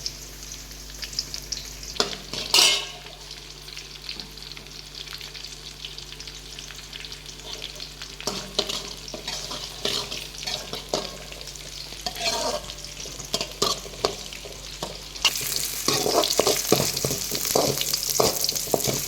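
Onions frying in a pan for sambar with curry leaves, a continuous close sizzle broken by scraping stirs and clanks of a spoon, growing louder and more intense near the end.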